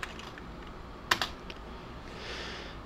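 A few quick keystrokes on a computer keyboard, a short cluster of crisp clicks near the middle over a faint background hum.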